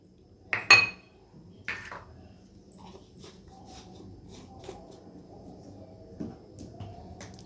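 A spoon clatters against a bowl as custard powder is mixed, a couple of loud clinks near the start followed by softer scattered taps and scraping, close and otherwise quiet.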